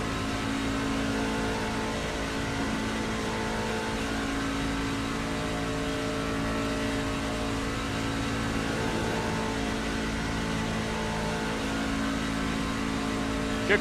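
Stock cars race at Daytona in the iRacing video game, a continuous droning roar of engines holding steady at moderate level without pause.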